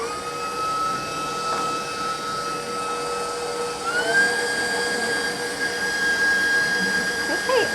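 A stand mixer whips Swiss buttercream with vanilla added, giving a steady, moderately loud motor whir that holds evenly throughout, its pitch shifting slightly partway through.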